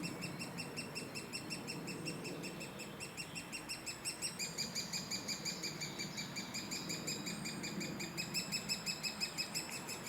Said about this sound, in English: Not quite sure what bird is making that warning note. Could be a nuthatch.